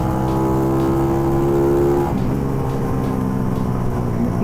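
A Suzuki Raider R150 Fi fuel-injected motorcycle accelerates to overtake, its engine droning loud and close with a steady tone that rises and then shifts pitch partway through as it pulls ahead.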